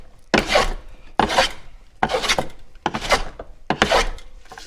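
A hand plane shaves a wooden board flat in five steady, evenly spaced strokes, each a loud, raspy swish of blade across wood with brief quiet gaps between.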